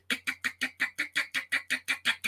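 A voice imitates a car with a bad motor sputtering as it pulls away, a fast, steady run of about a dozen puffing bursts, close and fairly quiet.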